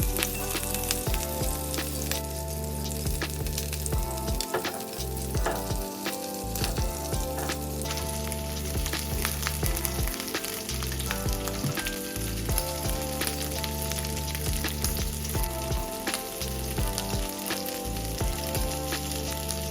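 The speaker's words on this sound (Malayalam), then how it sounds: "ഇനി ബാക്കിയുള്ളതും ഇതുപോലെ തന്നെ നമ്മൾ ഫ്രൈ ചെയ്തിട്ട് എടുക്കും." Coconut shrimp fry in hot oil with a dense, loud, continuous sizzle and crackle that runs steadily throughout, close by and with no voices.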